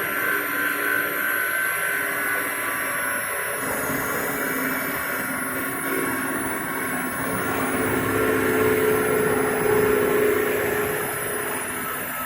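Homemade wood splitter driven by two washing machine motors with a heavy flywheel, spinning at about 3000 rpm, giving a steady, continuous motor hum and whir that stays level and fairly close throughout.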